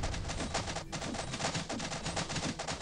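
Rapid cannon fire from the video game Wild Castle, a dense barrage of loud repeated blasts hammering almost continuously for the whole stretch with only a brief gap near the start.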